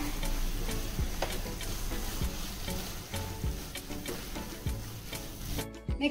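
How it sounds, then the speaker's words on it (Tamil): A spoon stirs bottle gourd burfi mixture in a pan, with a continuous sizzling scrape and regular knocks of the utensil against the pan, heard close up with no talking. "இதையும் நல்லா மிக்ஸ் பண்ணுங்க."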